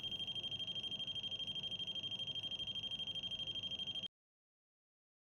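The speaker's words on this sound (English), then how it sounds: "Do note that all lights and alarm buzzers can be customized." A factory quality-control alarm buzzer sounds for about four seconds as a steady high electronic tone pulsing in rapid even beats, then stops abruptly into silence and a brief blip returns at the end.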